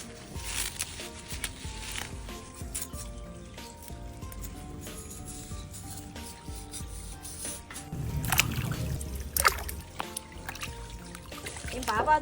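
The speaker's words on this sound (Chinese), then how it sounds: "帮我把这菌子洗好" Mushrooms are washed by hand in a large pot of water, with irregular splashes, drips and squishy rubbing, louder sloshing bursts near the end.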